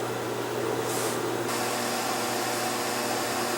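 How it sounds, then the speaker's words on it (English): An inline exhaust fan pulls air and smoke off an electric furnace melting wheel weights, giving a steady, loud broadband whoosh that stays constant throughout with no one talking. "I have an inline fan that's sucking the air and smoke off the top of the electric furnace"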